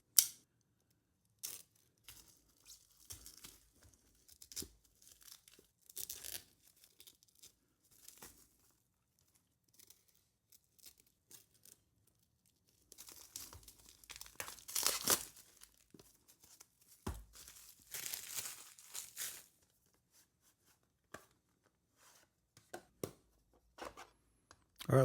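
Red plastic packaging on a Holosun 507 Comp Ronin Edition red dot sight gets cut away: sparse, quiet snips, crinkles and tearing rustles in bursts with pauses, close up and alone.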